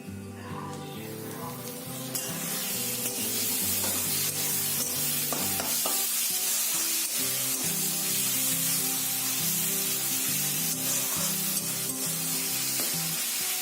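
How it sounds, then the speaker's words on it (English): Chopped tomatoes with salt cooking in a pan over softened onions for prawn biryani, giving a steady, loud sizzle and hiss with occasional stirring scrapes, while faint music plays underneath. "I will be adding the chopped tomatoes, salt, and then cover and cook till the tomatoes turn mushy"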